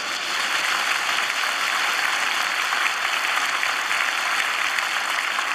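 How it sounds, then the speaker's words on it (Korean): A church congregation applauds heartily during a dedication service, a dense, sustained wash of clapping from a large crowd that stays loud and even throughout. "큰 박수 한번 하세요."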